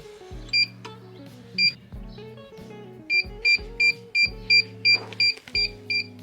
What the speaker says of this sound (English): Great, more beeping.